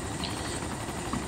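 In the DayZ video game, a helicopter drones with a steady, even rotor and engine rumble that holds at a moderate level throughout, without any speech.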